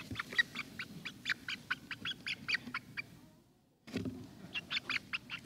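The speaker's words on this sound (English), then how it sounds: "a chicken to share with you." A pet hen let out of a box, making a quick run of short, bright clucks and squawks close by, a brief pause, then another burst of repeated clucking.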